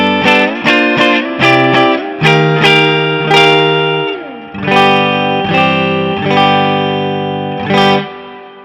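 Yamaha Revstar electric guitar on the middle pickup position, playing a loud run of bright, bell-like plucked notes and chords, each strike ringing out and decaying, with no talking.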